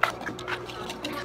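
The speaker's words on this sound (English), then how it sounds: "now we're going to whisk them together" A whisk beats four eggs in a bowl for a lemon cake, giving soft, quick, rhythmic clinking and sloshing strokes at a quiet level.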